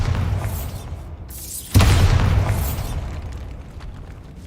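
A Bombarda blasting spell goes off in the Hogwarts Legacy video game, a sudden loud boom that rolls out into a long rumbling tail after a quieter lead-in.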